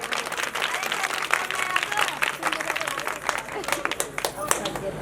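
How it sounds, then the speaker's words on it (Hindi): An audience claps loudly in a dense, sustained round of applause at a devotional katha gathering, with crowd noise mixed in throughout. "ये ताली मैंने आपसे इसलिए बजवाई है"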